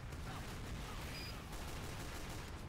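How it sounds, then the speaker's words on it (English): Sentry gun in Team Fortress 2 firing continuously, a dense rapid rattle of automatic shots mixed with game battle noise, steady and loud throughout. "Sentry should be able to do something, you know. Hold them back maybe a little. Hopefully. It's shooting people"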